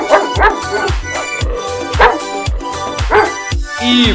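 A dog barks and yips several times in quick succession over a rhythmic musical backing.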